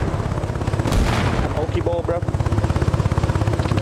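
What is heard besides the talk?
helicopter in video game Arma Reforger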